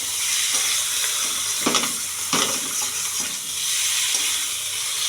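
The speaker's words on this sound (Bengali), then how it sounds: "একটু মশলাগুলোর সঙ্গে মাছগুলো একটু হালকা করে ভেজে নেব।" Fish gently frying in hot oil with spices, a steady soft sizzle with brief stirring scrapes and bursts of spatter, close and alone.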